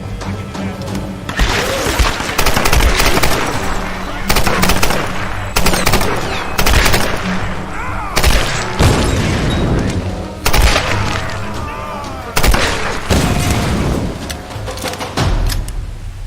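A maniac fires at Lara in Tomb Raider, loud bursts of gunfire repeating in clustered volleys with heavy booming impacts across the whole stretch, close and dominant.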